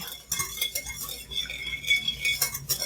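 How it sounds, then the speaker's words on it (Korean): Yeast mixture for rice-cooker bread dough being gently stirred with a utensil in a bowl, giving soft repeated clinks and scrapes at a steady, close rhythm with no talking. "그러면 한번 살짝 저어주세요."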